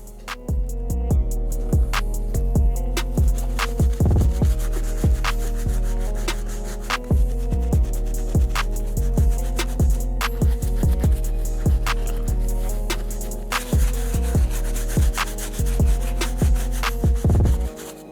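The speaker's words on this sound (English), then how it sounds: "We're gonna continue using the same exact brush, but on the tongues and the insides of the shoe now." A brush scrubs the suede, mesh, tongue and inner lining of an Air Jordan 13 Bred sneaker in brisk, rhythmic back-and-forth strokes, loud and close, steady for the whole stretch with no talking.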